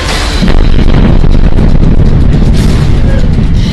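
Russian missile strike explosion in the eastern Ukrainian city of Kramatorsk: a loud, sustained roaring blast with rumbling, crackling debris, dense and close throughout.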